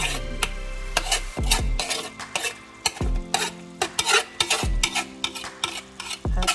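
Onions sizzle and fry in a pan as a utensil stirs and scrapes in quick irregular strokes, steady hiss underneath with frequent clinks against the pan, close up and without voices.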